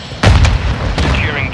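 Semtex grenade in a Call of Duty: Modern Warfare II Domination match on the Lighthouse map: a sharp, loud close blast with deep low-end thump, a second hit shortly after, and a rising electronic whine trailing off.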